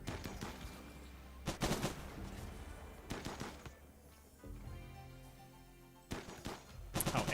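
Bursts of automatic gunfire aimed at a wall in RimWorld Odyssey, several sharp volleys at roughly 1.5, 3, 6 and 7 seconds, loud and close, with quieter game ambience and a low hum between them.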